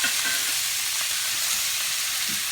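Beef browning in a pan, a continuous loud sizzle with faint scraping as the meat is stirred, close up and with no talk.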